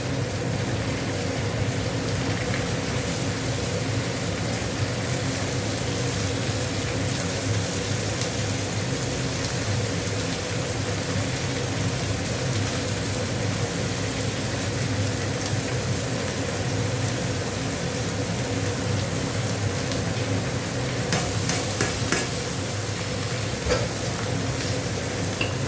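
Shredded cabbage frying in a pan while being stirred, a dense, steady sizzle like rain on a surface, with soft scraping from the spoon throughout; no voices.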